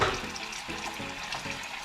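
A bucket fills from a running tap with about a gallon of water to make a bleach cleaning solution, a steady moderate splashing rush with a faint rhythmic sloshing under it, heard alone without voices.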